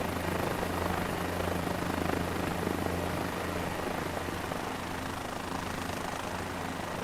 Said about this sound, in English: This is the helicopter. So we're using a small one in the official Cabri colors.